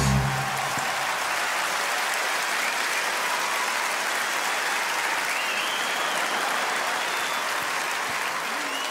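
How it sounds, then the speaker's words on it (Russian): Broad, continuous crowd applause following the finale of a magic trick, an even, fairly loud wash of clapping that holds steady throughout. "получите заслуженные аплодисменты"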